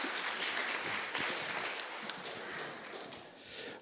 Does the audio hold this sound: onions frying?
no